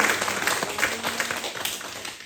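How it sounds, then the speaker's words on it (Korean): Congregation applauding during a Sunday church service, a short burst of dense clapping filling the room and fading over about two seconds. "더 잘 회복되시라고 박수 한번 하겠습니다"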